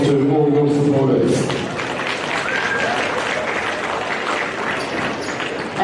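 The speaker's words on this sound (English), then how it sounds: "how about you guys give a big round of applause to all your supporters" Players in a basketball stadium applaud their supporters in a loud, sustained round of clapping that stays even throughout, with a voice briefly heard at the beginning.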